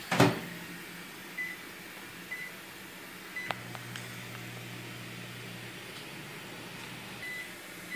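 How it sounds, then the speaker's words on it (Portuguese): A microwave oven runs while melting chocolate, opening with a sharp click and a few beeps, then a low steady hum with a faint fan whir that holds for several seconds before stopping. "agora vocês colocam mais 30 segundos no micro-ondas"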